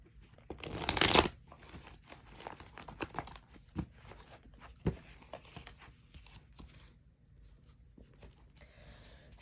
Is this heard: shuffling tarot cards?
yes